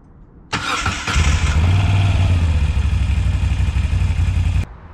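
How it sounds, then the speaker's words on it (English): A Moto Guzzi V7 III motorcycle engine starting after a short delay: a click, a brief crank, then the engine catches and settles into a loud, steady, throbbing idle close by before stopping abruptly. "when you turn the key to start her up, there's a pause and you think she's not going to start, then she kicks in"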